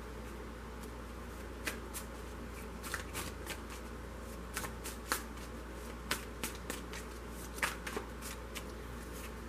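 A deck of tarot cards being shuffled close by, soft papery riffles and sharp flicks in irregular bursts over a steady low hum, with no talking.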